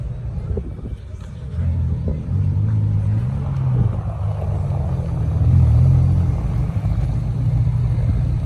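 A McLaren sports car at Place Vauban gives off a low, rumbling engine drone that swells slightly, heard from nearby among other traffic at a street car gathering.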